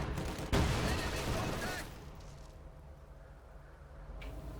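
Gunfire and artillery shelling a church in Company of Heroes 2: a loud burst of shots and a heavy blast, then a fading rumble with sporadic distant fire, while a voice talks over it.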